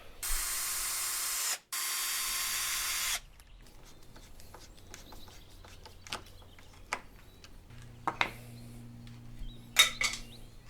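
A power driver sinks screws into the base of a homemade steel-cutting chop saw: two loud, sustained whirring bursts, then scattered clicks, knocks and a low steady hum.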